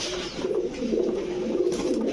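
Pigeons of fancy breeds such as Kamargar, Rampuri and Kaldom at a sale coo in a steady low murmur, several birds together, close and continuous with no talk over them.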